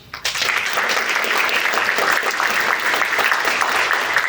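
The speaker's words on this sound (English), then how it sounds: "So please give our speakers a warm round of applause" An audience at an AI conference in Mississippi applauds its speakers, a steady, fairly loud round of clapping that starts abruptly and carries on evenly with no talk over it.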